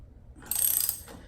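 A freshly restored 1973 Schwinn World Voyageur bicycle part spins on bearings, a short soft ticking whir lasting about a second in a quiet room.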